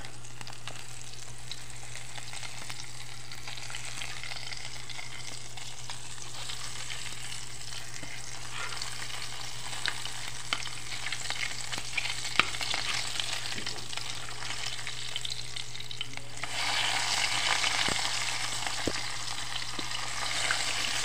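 An omelette of bolinaw fish and sweet potato tops frying in a pan, a steady close sizzle with occasional clicks and stirring scrapes, growing a little brighter near the end, no talking.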